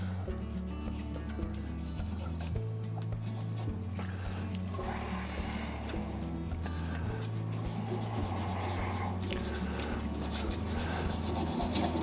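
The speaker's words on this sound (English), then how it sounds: "light hand sand. in different directions just to give it a little bit more." Hand sanding of a burl and resin shaving brush handle with sandpaper, a steady, close rasping rub that continues for the whole stretch over a constant low hum.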